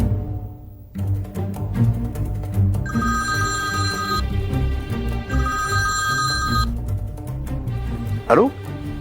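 A telephone rings in two long bursts with a pause between them, clear and close, while people talk over and around it.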